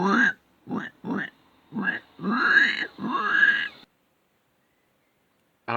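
A voice imitates a farm pig with a string of short, rough grunts and snorts that run into two longer squealing grunts, close and fairly loud.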